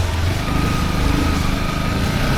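Yamaha WR 155R motorcycle engine while riding, a loud steady buzzing drone close up, held at fairly constant revs throughout, mixed with wind rush and no talk.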